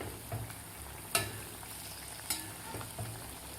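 Gulgule, sweet wheat-flour and jaggery fritters, frying in hot oil: a steady, dense sizzle and bubbling hiss throughout, with a few sharper crackles and splatters near the start and middle, no voices.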